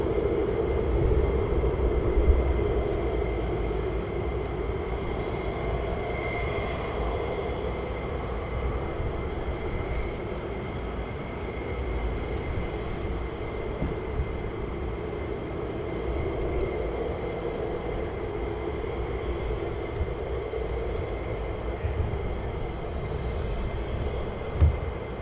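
Three Eurofighter Typhoon fighter jets fly over RAF Lakenheath, a continuous loud jet engine roar with a steady broad rumble and whine that holds throughout and eases slightly toward the end.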